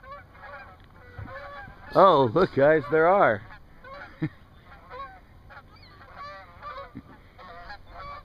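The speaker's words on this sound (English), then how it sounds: "I wonder if there's any Canadian geese around here." A burst of loud Canada goose honking from several birds at moderate distance, a few seconds long, followed by scattered fainter honks, with a person speaking briefly.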